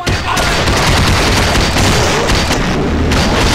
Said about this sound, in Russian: Слышим выстрелы.